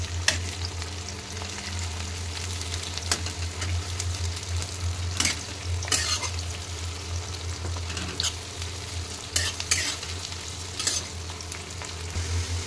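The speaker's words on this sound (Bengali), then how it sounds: "পেঁয়াজ দিয়ে দিয়েছি, পেঁয়াজটা একটু ভেজে নেব।" Sliced onions fry in oil in a home-kitchen pan with a continuous steady sizzle, punctuated by sharp clicks and scrapes of stirring at irregular intervals, close and alone.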